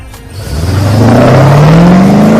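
A Chevrolet Camaro engine revs up loudly and close, its pitch climbing steadily into a sustained, strained roar.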